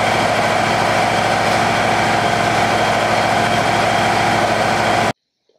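Wood-Mizer LT35 sawmill engine running smoothly after a no-start repair, a loud, steady idle with a continuous throbbing rumble that cuts off abruptly near the end.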